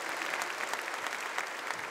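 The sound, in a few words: congregation applauding in church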